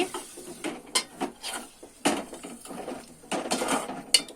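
A spoon stirs a tomato and tamarind curry in a metal pan, giving a run of close, irregular scrapes and clinks against the pan with no one speaking.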